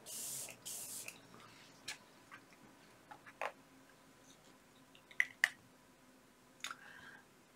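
Makeup setting spray gives two quick hissing bursts at the start, followed by a quiet stretch of scattered small ticks and clicks.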